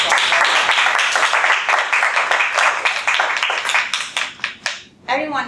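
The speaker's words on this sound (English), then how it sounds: "I just want to give him a round of applause." Clapping at a Toastmasters meeting in honor of a storyteller, a room of people applauding with loud individual claps, dying away before a voice begins speaking.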